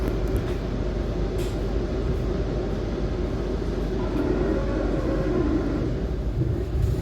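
A Jayakarta passenger train runs at speed, heard from inside as a steady low rumble and rattle of the rail carriage with a few faint clicks.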